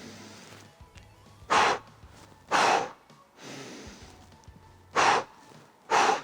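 Deep, forceful breaths drawn in and pushed out during a yoga breathing exercise, five loud close rushes of air spaced about a second apart over a quiet background.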